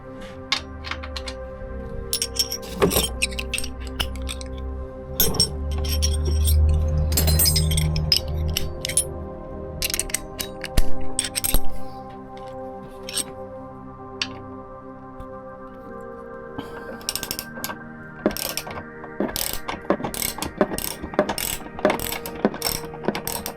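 A hand ratchet works on a bolt of a motorcycle tank crash bar on a Royal Enfield Himalayan 450, giving repeated close, sharp clicking bursts in irregular runs with brief pauses and some metallic clinks.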